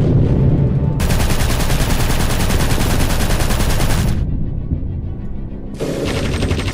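Rapid video-game gunfire hammers at a turret in long, dense automatic bursts, loud and close, with a brief pause before firing resumes.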